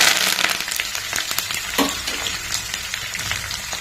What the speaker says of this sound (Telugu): కట్ చేసి పెట్టుకున్నటువంటి ఆనియన్స్ వేసేసుకుందాం